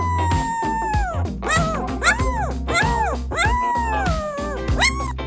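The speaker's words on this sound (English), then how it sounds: "his howling melts my heart" A teddy bear poodle puppy howls in long, wavering rising-and-falling tones, several drawn-out howls in a row with short breaks, close and fairly loud, over steady low background noise.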